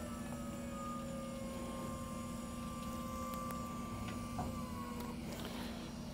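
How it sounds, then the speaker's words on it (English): The generator of a 2020 Newmar King Aire motorhome slides out on its hydraulic slide. A steady mechanical whine and hum with a sustained tonal drone shifts pitch near the end, and no one talks. "This is how we're gonna pull out the generator. It's on a hydraulic slide."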